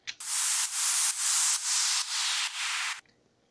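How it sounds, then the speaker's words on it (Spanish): A synthesized descending noise filter sweep effect: a bright hiss pulsing in about six even bursts, loud and close, then stopping abruptly. "Sería más que nada ruido, pero pues de forma descendente"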